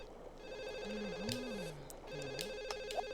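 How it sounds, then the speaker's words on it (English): A telephone rings in The Sims on PlayStation 2, a repeating electronic trill at moderate level under light game music and soft background sounds, with no speech. "Gotta answer that phone."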